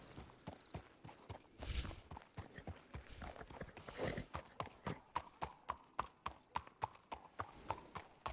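A horse's hooves clip-clopping in Red Dead Redemption 2, a steady rhythmic walking gait of sharp thuds, close and fairly quiet, with a few louder rustling bursts mixed in.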